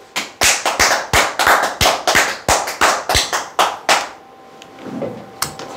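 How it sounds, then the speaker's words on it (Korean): Crisp, evenly spaced hand claps, roughly a dozen and a half sharp strikes in a steady rhythm, ring out close and loud for about four seconds, then stop and leave a near-quiet room with a faint tap or two. "박수!"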